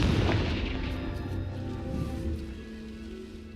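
A Confringo fire spell explodes in Hogwarts Legacy, a heavy boom at the outset rolling into a fading rumble with a smaller swell midway, no voices over it.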